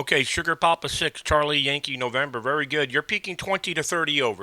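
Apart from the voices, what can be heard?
No everyday noises stand out.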